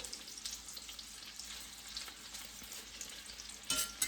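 Mild sausages from Carol's frying in a pan give off a steady, close sizzle, with a brief louder burst near the end.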